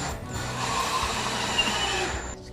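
A power drill driving 2.5-inch pocket hole screws into furniture: one close, steady whirring run of about two seconds that winds down at the end.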